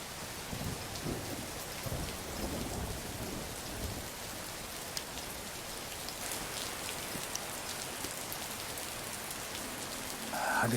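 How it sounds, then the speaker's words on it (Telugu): Steady rain falls throughout with rolling thunder rumbling low in the first few seconds, a continuous wash of drops on surfaces, and a slight swell near the end. "వర్షం తగ్గాక వెళ్ళొచ్చులే, కూర్చో."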